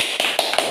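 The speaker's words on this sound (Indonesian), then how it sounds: "Tepuk tangan dulu." Hands clap a few quick times in a short, evenly spaced burst during an outdoor barbecue meal of venison, with a voice heard alongside.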